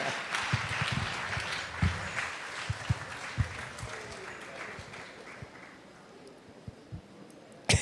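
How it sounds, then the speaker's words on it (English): An audience at a primary school fund-raising awards banquet applauds in a steady, dense patter of clapping, with occasional sharper claps and thumps and a murmur of voices, fading slightly toward the end. "Give her a round of applause."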